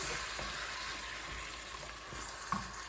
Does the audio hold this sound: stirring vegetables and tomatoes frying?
yes